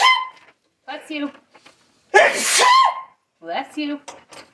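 A single loud, close sneeze bursts out in the middle of a sewing session, with people talking before and after it.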